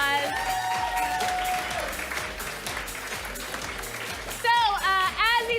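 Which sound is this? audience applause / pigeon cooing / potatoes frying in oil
audience applause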